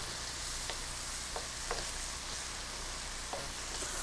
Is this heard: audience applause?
no